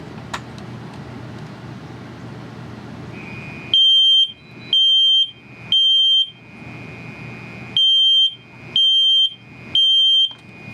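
Basement smoke detector on a Notifier AFP-100 fire alarm system sounding during a test: a steady high electronic beep repeated in two sets of three evenly spaced pulses, loud and close, with no talking.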